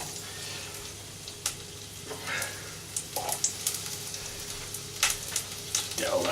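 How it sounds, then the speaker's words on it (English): Steady, gentle sizzling of garlic in hot fat, a continuous crackle with occasional sharper pops, close by and moderately quiet. "into there goes the garlic, and that starts to sizzle straight away"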